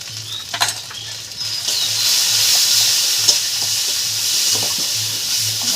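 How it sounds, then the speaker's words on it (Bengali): Spice mix with turmeric and a pinch of sugar being stirred as it fries in a pan for pointed gourd and egg biryani; a steady close sizzle runs throughout, broken by repeated scraping stirs, with no talking. "মশলাটা নেড়ে নিচ্ছি ভালো করে।"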